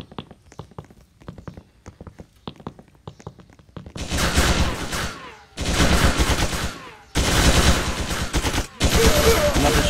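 Rapid gunfire in a Roblox Commander Simulator battle: scattered light clicks and taps give way to three long, loud, dense bursts of shooting, broken by brief gaps.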